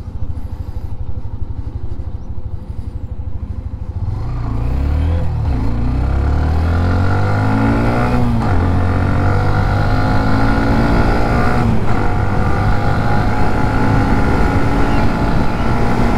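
A 2024 Hero Xtreme 125R motorcycle engine revs up and climbs in pitch as it accelerates to about 80 km/h, loud and steady, with heavy wind rushing over the microphone.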